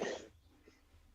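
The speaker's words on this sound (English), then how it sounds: "Sorry, I just had to clear my throat then." A single sharp throat-clearing burst at close range opens the moment, loud and brief, then fades into quiet room tone.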